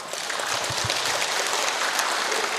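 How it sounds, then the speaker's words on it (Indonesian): An audience at an Islamic gathering in a mosque claps together, a dense, steady patter of many hands that holds evenly for the whole stretch. "Ya, tepuk tangan. Tepuk tangannya yang mantap."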